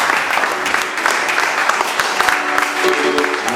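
Congregation applauding during a church service, a steady dense wash of clapping hands that carries on without pause, with faint voices mixed in underneath.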